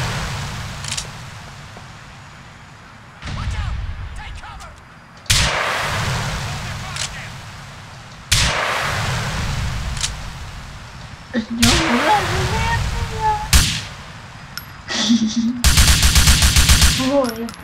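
Gunfire in the video game GTA IV comes in several sharp, loud bursts and volleys spread across the stretch, with voices talking in between.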